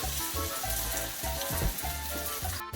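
Arepas cooking in a hot pan produce a steady close sizzle and crackle, with faint low rhythmic thumps underneath and no voices, ending in a short sharp clatter.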